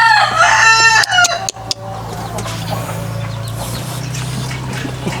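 A rooster on a small farm crows loudly up close in the first second, followed by clucking and rustling from nearby hens over a steady low background hum.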